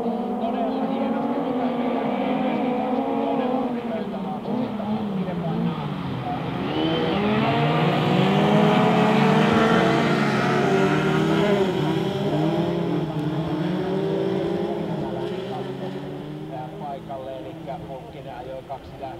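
Race cars launch and roar around a winter championship circuit at Pieksämäki, engines rising in a loud swell then fading as the pack moves off, with a commentator talking over the whole run.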